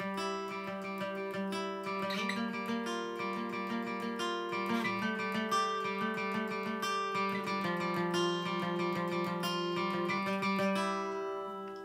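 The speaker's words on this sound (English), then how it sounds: "For verse 2, we come in with this cool picking pattern." Guitar plays the verse picking pattern for a worship song, with steady, ringing picked chords in an even, rhythmic pattern at a soft, clean volume.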